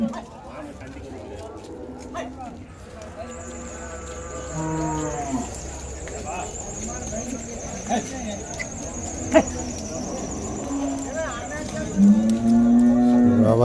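Cattle at the busy Vaniyambadi cattle market low and moo repeatedly, some calls long and drawn out, with steady crowd chatter and nearby voices talking throughout.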